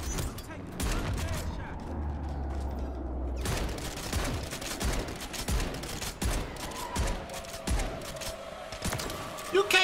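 Gunfire from a Reclaimer 18 shotgun and other weapons in Call of Duty MW3 multiplayer, a dense run of sharp shots and booms mixed with game sounds at a steady moderate level.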